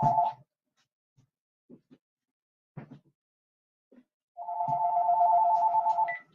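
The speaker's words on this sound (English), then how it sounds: "And of course, my phone rings." A telephone ringtone sounds twice: a brief burst at the start, then a longer, steady, loud ring after a few seconds of near silence broken by faint clicks.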